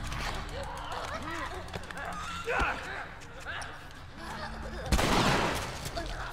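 Gunfire in The Last of Us Remastered on PS4 breaks out as scattered sharp shots and bursts, with one loud blast near the end, under a player's agitated, frequent speech.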